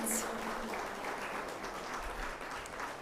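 Audience applause at a general assembly opening ceremony, a faint, steady patter of clapping that sounds distant and soft throughout.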